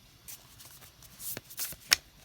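Soft riffling and slapping of large tarot cards being shuffled by hand, several uneven bursts close by, a bit clumsy, with no talking.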